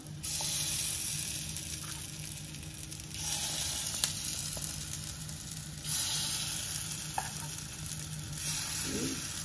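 Rava appe batter poured into the cups of a hot appe pan, a soft steady sizzle rising in bursts as each portion hits the metal, with faint clicks from the pan.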